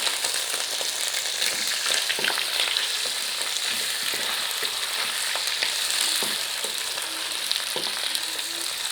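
Chicken frying with browned onions in a karahi, a dense continuous sizzle with scattered stirring clicks and scrapes, close and steady, no voices.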